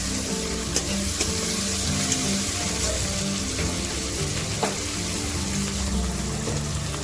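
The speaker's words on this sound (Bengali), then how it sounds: "দিয়ে ভালো করে নেড়ে নেব যতক্ষণ না টমেটোটা ভালো করে গলে যায়" Tomatoes cooking in a pan with salt, a steady sizzle with soft stirring scrapes and a few sharper clicks, close and moderately loud, no voices.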